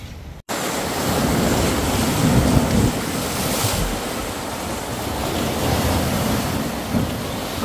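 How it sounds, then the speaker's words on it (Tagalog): Ocean waves wash steadily around a fishing boat at sea, a loud continuous surf roar mixed with heavy wind buffeting the microphone, starting abruptly after a brief quieter moment. "alon ng tubig."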